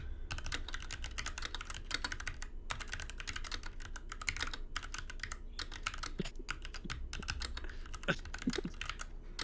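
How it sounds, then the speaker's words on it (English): Rapid clicking keystrokes on a computer keyboard, steady bursts of typing with brief pauses, close and fairly quiet, with no talking. "You guys can you guys hear me typing?"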